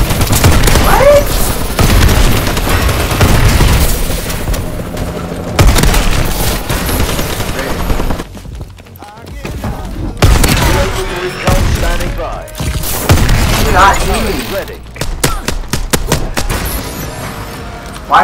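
Rapid gunfire in Call of Duty: Advanced Warfare rattles in loud, dense bursts of automatic shots with short gaps between volleys, some heavier booms mixed in, sustained for the whole stretch.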